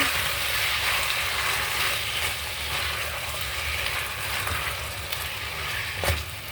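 Food fried in a pan and stirred, a steady close sizzle with a few scraping knocks from the stirring, and no voices over it.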